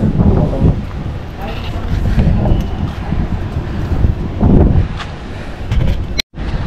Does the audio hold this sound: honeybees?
no